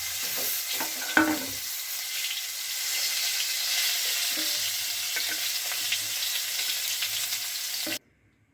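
Eggplant pieces sizzle in hot oil in a wok, a loud, steady broadband crackle with a few sharp clicks of stirring. It runs for about eight seconds and then cuts off abruptly.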